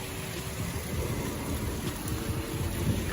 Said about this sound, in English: It's raining out here, man.